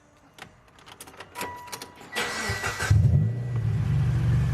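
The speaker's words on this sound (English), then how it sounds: "So I'm just gonna start the car, count to 15," A Mitsubishi Lancer's engine cranks with a few clicks and then catches, settling into a steady, close idle rumble after a brief rev.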